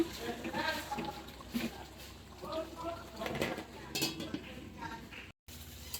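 Fish heads, lightly fried beforehand, are stirred with spices in a pan, giving continuous scraping and clinking of a utensil against the metal with a low sizzle. Background noise runs under it throughout.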